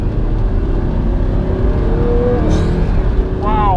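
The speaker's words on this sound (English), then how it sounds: "Right now I'll be doing a wide open throttle." Audi R8 supercar engine at wide open throttle: a loud, steady roar close by, with a rising whine as the revs climb toward the end.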